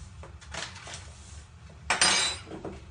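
A dessert spoon tips sugar into a pan of braised red cabbage, giving a few soft metallic clinks and scrapes with one louder rattling burst near the end, close by and alone.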